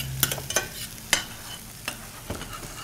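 Shallots sauté in a pan as a spoon scrapes and stirs in a few sharp, separate clacks over a low background sizzle, close and fairly quiet, with no one talking.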